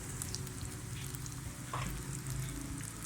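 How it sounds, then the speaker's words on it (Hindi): Potato pinwheel samosas fry in hot oil with a steady, dense sizzle and bubbling, close and continuous, with a faint clink near the middle. "ये आप देख सकते हैं हमने बाकियों को भी फ्राई होने के लिए डाल दिया है।"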